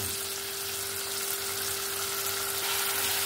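Ginger garlic paste hitting softened onions, tomatoes and green chillies in a hot pan for egg curry: a steady, close, loud sizzle with a constant hiss, no speech.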